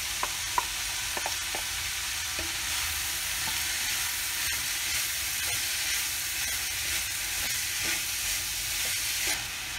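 Diced beetroot sautéing with onion in a pan, a steady close sizzle with light, intermittent stirring taps and scrapes, no talking.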